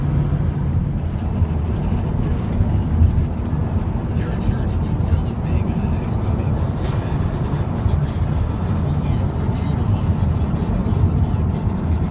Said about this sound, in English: Lots of traffic in the Silicon Valley.